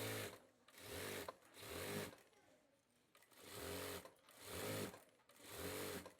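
A sewing machine stitches a shirt in about five quick, rattling runs, each a second or so long, separated by brief quiet pauses, nearby and alone.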